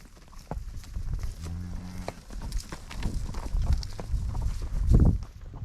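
Cattle being pushed on a ranch, with one clear low moo near the start followed by further lowing, shuffling and hoof movement nearby, mixed with outdoor rustle.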